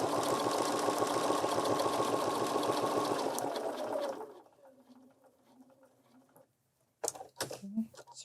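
A Bernina 475 sewing machine top stitching along the edge of a fabric candle mat, a steady close rapid whir for about four seconds that then stops, followed by quiet room sound and a brief voice.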